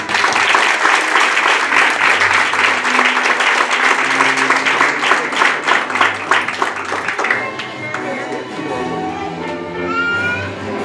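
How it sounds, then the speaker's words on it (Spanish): Wedding guests at a ceremony break into loud, sustained applause, dense clapping filling the room before thinning out toward the end, with some voices and background music underneath. "Démosle un fuerte aplauso."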